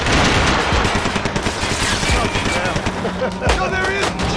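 Rapid gunfire from the video game Max Payne 3 rattles loud and continuous in dense bursts, with a few sharper shots standing out toward the end.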